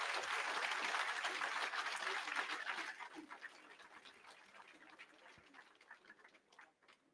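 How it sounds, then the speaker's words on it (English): Auditorium audience clapping for a guest speaker, loud and dense at first, then thinning into scattered claps that fade away toward the end. "And please give a big round of applause to Mr. K. Annamalai."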